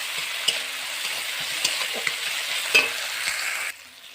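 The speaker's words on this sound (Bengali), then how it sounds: "দিয়ে একটু নাড়াচাড়া করে নেবো পেঁয়াজটা ভাজা হয়ে গেলে" Onions frying with ginger garlic paste, tomato and bay leaf in a pan, a close, even sizzle broken by several sharp scrapes and taps of a spatula, then fading quieter at the end.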